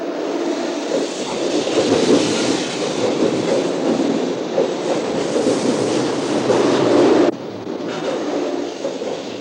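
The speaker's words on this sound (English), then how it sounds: "God must have had the Shinkansen in mind when he created Japan, a land that seems tailor-made for high-speed trains." A Shinkansen high-speed train in Japan roars past loudly and continuously with a dense rushing rumble, then drops abruptly to a lower, steadier hum near the end, with no voices.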